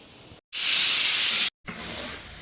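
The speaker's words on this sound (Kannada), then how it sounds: "ಮಟನ್ ಎಲ್ಲ ಕುದಿತಾ ಇದೆ" Mutton boiling in a pot for Hyderabadi mutton dum biryani gives off a loud, steady hiss of steam for about a second, framed by quieter background hiss on either side.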